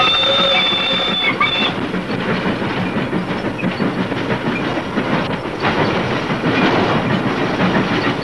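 A passenger train rolls along the rails, a continuous loud rumble and rattle with a faint high squeal early on, heard from inside the carriage without talk.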